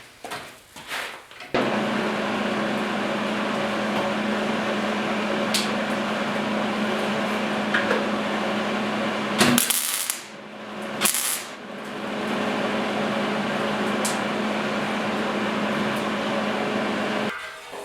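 Welder running steadily in a shop during restoration of a 1969 Ford Bronco's quarter panels: a continuous buzzing hum held for long stretches, briefly broken by a pause and a few clunks midway.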